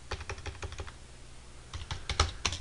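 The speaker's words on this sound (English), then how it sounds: "let's just write, we're going to type in private." Keys clatter on a computer keyboard as Java code is entered, a quick run of close, crisp taps, a short pause, then another burst of keystrokes with no talking.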